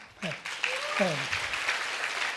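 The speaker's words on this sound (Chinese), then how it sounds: "所以我们也再次替这个 Golden 鼓鼓掌。" Applause from an audience swells and continues steadily after a brief spoken phrase at the start.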